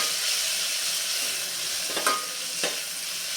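Spiced potato curry sizzling steadily in a pan while being stirred, a constant close frying hiss with two brief scraping stirs near the end.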